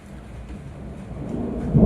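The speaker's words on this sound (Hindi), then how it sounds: "कड़कड़ाहट बहुत ज़्यादा तेज है।" Loud thunder in a violent storm in Siliguri strong enough to shake a house, a deep rumble swelling out of steady rain and breaking into a heavy, close crack at the end.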